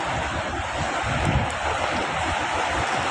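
Continuous roar of rough surf on Manila Bay during a typhoon, with wind rushing across the microphone, loud and unbroken throughout.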